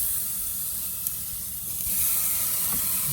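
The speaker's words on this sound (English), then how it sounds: "I'm gonna let these sizzle away, and we're gonna turn them in a minute." Beef tenderloin steaks sizzle on a Weber Mastertouch charcoal grill during a reverse sear, a steady close hiss that swells slightly toward the end, with no talking.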